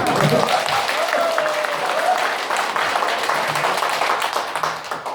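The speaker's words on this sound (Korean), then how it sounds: "근데 왜 박수 소리가 우레와 같지 않습니까?" Audience applause in a lecture hall during a security talk at a Daejeon Christian hall, steady dense clapping from a seated crowd that tapers slightly toward the end, with a voice speaking over it.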